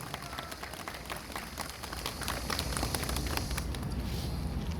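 A crowd at an outdoor protest rally in front of the land ministry claps steadily, with dense, even applause that swells slightly louder toward the end.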